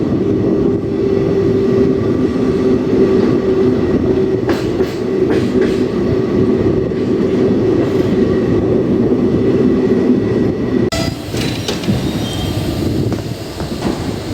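Inside a general class coach of a running Indian passenger train, a loud continuous rumble and rattle of wheels on track fills the space, with a brief sharper clatter partway through and a shift in tone near the end.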